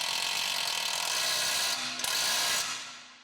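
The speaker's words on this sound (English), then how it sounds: "Use a 21mm socket on an impact to tighten the knuckle bolt." Impact wrench with a 21mm socket hammering a knuckle bolt tight on a 2009–2012 Volkswagen Golf R during coilover installation: a steady, loud continuous rattling buzz for about three seconds, briefly dipping near the end before it stops.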